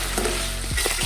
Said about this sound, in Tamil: வெங்காயம் நல்லா வதங்கணும் பொன்னிறமாக